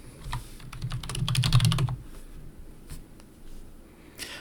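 Close, quick keystrokes on a computer keyboard typed from an unusual angle, building into a dense burst of clatter and then dropping to a few sparse, faint clicks.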